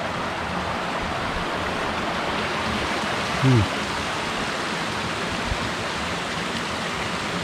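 A mountain stream flows through forest on the Guci trail of Mount Slamet, a steady broadband rush of water close by, with one brief voice-like sound partway through.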